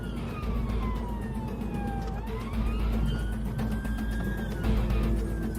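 A police car siren wails with rising and falling sweeps over a steady rumble of engine and road noise during a traffic pursuit, loud and continuous.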